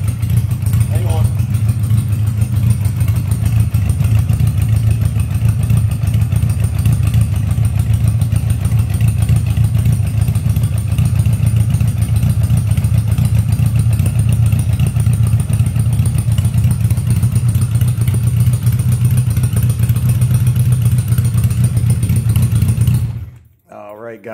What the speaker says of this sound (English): I'm a little low on my idle.